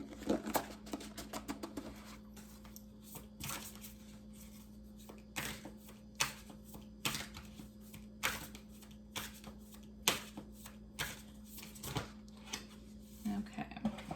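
Cosmic Dancer oracle cards shuffled and handled close up, a run of quick papery riffles and soft slaps at first, then sparser flicks and taps over a quiet room.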